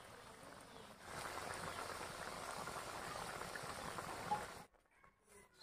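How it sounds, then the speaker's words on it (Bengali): Curry gravy for an egg pepper fry bubbling in a pan, a steady, dense simmering hiss that runs for several seconds before cutting off abruptly near the end. "ঝোলটা সুন্দরভাবে ফুটে এসেছে"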